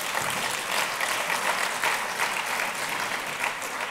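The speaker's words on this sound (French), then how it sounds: "bah vous pouvez l'applaudir" Sustained audience applause at a conference opening address in Biarritz, a steady wash of many hands clapping at moderate level, no speech.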